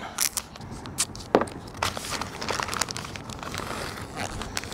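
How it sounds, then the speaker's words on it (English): Masking tape is pulled and pressed onto a vacuum-sealed package of mozzarella, giving close crinkling plastic and sharp tearing snaps in short bursts, with a louder rip partway through. "I will throw a couple pieces of masking tape on it."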